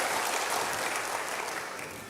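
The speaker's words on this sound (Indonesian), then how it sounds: "Yang mau berikan tepuk tangan bagi Tuhan" A church congregation applauds in praise during a worship service, a dense, steady wash of many hands clapping at once that holds for about two seconds and fades slightly at the end.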